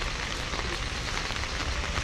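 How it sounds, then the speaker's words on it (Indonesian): Steady, dense rainfall pattering on surfaces, a continuous broadband hiss with scattered drops, fairly loud and close with no voices. "Dan hujan."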